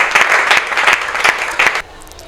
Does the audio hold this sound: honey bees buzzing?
no